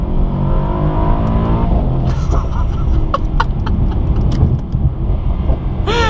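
A Mercedes-AMG E63S pulls hard on a highway after a missed exit, engine roaring loudly and steadily through a long acceleration run with a few sharp shifts breaking the climb.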